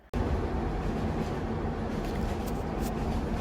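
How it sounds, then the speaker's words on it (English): Narrow gauge train riding through the Rhodope mountains, a steady loud rumble and rattle of the carriage on the rails heard from inside, continuous with no talk. "In general, the narrow gauge train is very special."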